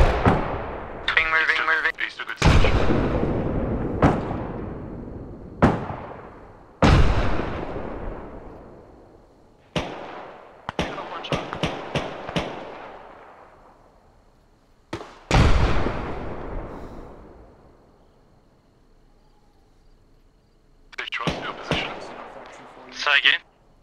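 Suppressive gunfire in the military video game Arma Reforger: loud, sharp shots with long echoing tails, fired singly and in short irregular bursts, a quick cluster near the end, with faint voice activity in the background.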